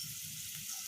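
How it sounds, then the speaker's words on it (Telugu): Peanuts frying in hot oil in a pan give off a steady, dense crackling sizzle, close and even for a brief moment with no voices. "ప్యాన్ పెట్టుకొని ఆయిల్ పోసుకొని పల్లీపప్పు వేసి ఇలా పల్లీపప్పు బాగా ఫ్రై అయ్యాక"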